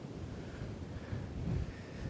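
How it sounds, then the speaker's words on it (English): Low, rumbling wind buffets a lapel microphone in stereo mode in heavy gusts, swelling louder toward the end with no voices present. "Huge gusts of wind."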